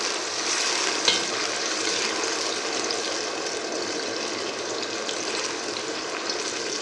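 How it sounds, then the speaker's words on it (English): A pot of vegetable soup with tomatoes, stirred steadily over heat, gives a continuous sizzling, bubbling wash of sound throughout, with a faint spoon scrape near the start and no talking. "Just stirring it."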